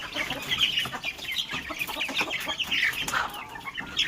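A flock of incubator-hatched chicks about one and a half months old cluck and cheep on a small farm, busy overlapping calls close by with no talking.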